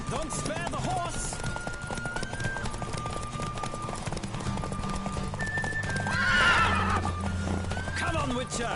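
In The Witcher, a horse's hooves clip-clop in a steady galloping rhythm, with a loud whinny about two-thirds of the way through. Game music hums underneath.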